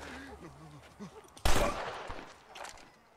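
A sudden loud gunshot in Red Dead Redemption cracks once partway through, after quiet talk, then decays with a short ringing tail.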